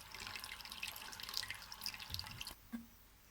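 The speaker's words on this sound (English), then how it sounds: "Water's just running down from the back of the house into the sump and then draining up the top of the stormwater drain." Water trickles and drips steadily as it runs down from behind a house into a sump and drains toward a stormwater drain, a faint close splashing with a few distinct drips near the end.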